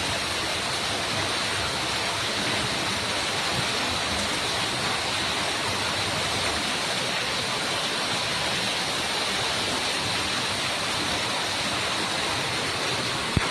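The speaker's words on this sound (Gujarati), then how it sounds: "જબરદસ્ત વરસાદ ચાલુ છે અમદાવાદમાં" Heavy rain pours down steadily in Ahmedabad, a dense, unbroken roar of broadband hiss close by, with no voices over it.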